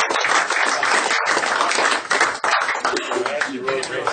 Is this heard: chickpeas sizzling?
no